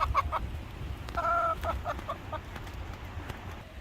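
Chickens cluck near a backyard coop in short, bright, rhythmic bursts, close by, over a steady outdoor background hiss.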